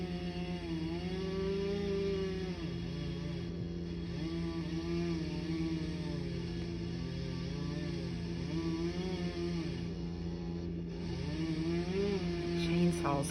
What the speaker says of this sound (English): Chainsaws have to be very, very sharp to go through the wood.